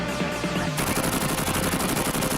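Rapid, loud machine-gun fire from a retro 80s-style action video game, a dense continuous rattle of repeated shots with no talking.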